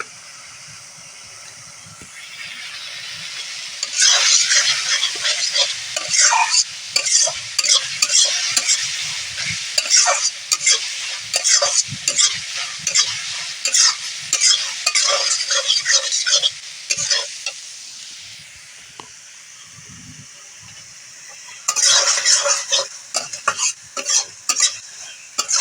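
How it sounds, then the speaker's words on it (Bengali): Spice paste for a Bombay duck (laytha) fish curry sautés in hot oil, giving a steady close sizzle broken by repeated scraping bursts of stirring, with a short quiet pause before the frying and stirring start again. "মশলাটা কষাতে কষাতে যখন তেলটা ছেড়ে দেবে"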